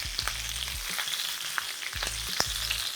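Pak choy leaves being stir fried in a little oil in a wok, a continuous close crackling sizzle with a few sharp scraping tosses.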